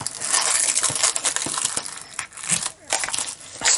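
Press and seal plastic wrap stretched tight over a container lid, giving continuous close crinkling and crackling with sharp crunchy snaps throughout, loud and up front, with no talking.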